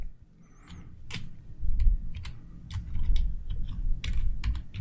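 Keys clatter on a computer keyboard as an SQL query is typed, with irregular clusters of crisp close clicks and brief pauses over a low background rumble.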